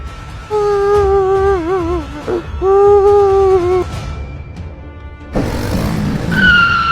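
A motorbike skids with a loud, wavering squeal in two long bursts, followed by a rougher, noisy scrape near the end.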